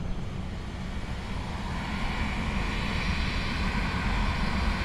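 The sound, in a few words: FSLabs A321 airliner taxiing in a flight simulator video game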